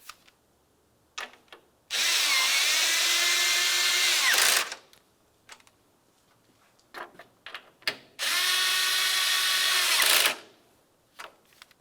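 A power tool drives 10mm bolts into a 2009-2019 Ford Flex radiator in two loud, steady whirring bursts of about two and a half seconds each, separated by a pause with light clicks and handling noises.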